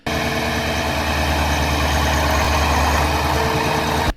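A Perkins TV8 540 diesel V8 of about 8.8 liters, fitted in a red and silver tractor, runs at a steady idle with a loud, close, even rumble that starts and stops abruptly and has no voices over it.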